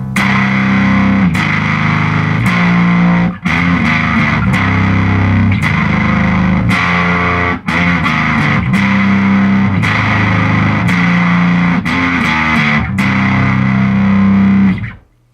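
Loud bass through a JHS Woolly Mammoth fuzz pedal into a Mills Custom Amps Compass hybrid bass amp, heavily fuzzed riffing with a thick, saturated growl, played in chugging phrases with brief pauses, then stopping abruptly at the end.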